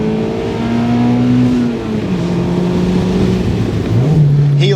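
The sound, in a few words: Mazda MX-5 ND engine revving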